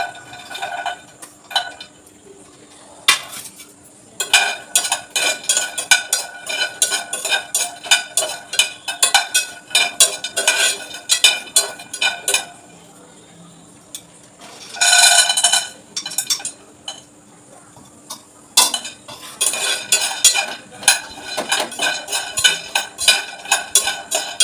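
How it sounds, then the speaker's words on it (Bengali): Makhana and roasted chickpeas dry roasting in a pan, bursts of loud rattling and scraping as the dry pieces are stirred and tossed, repeated in uneven clusters with short quiet gaps, close by and without talk. "আমি একটু মাখানাটা আর ভাজা ছোলাটাকে একটু হালকা ড্রাই রোস্ট করে নিলাম"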